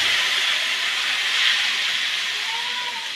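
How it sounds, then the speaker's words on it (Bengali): A paste of ginger, onion, cumin and green chili fries in oil for a silver carp fish curry, giving a steady, soft hissing sizzle that holds evenly for a few seconds with no talking. "এখন মশলাটা ভুনে নেব।"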